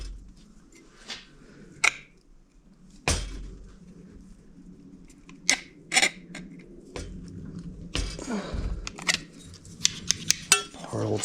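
Metal snips bite through rusted body metal on a 1957 Chevy, giving sparse, sharp clanks and metallic clinks scattered between quiet gaps, close and fairly loud with no talking.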